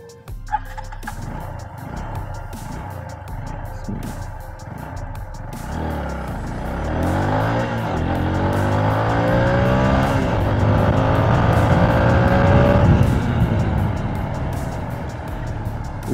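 A TVS Apache RTR 160 4V motorcycle accelerating from standstill toward 60 on a road with traffic, its engine note climbing steadily and growing louder through gear changes over about sixteen seconds.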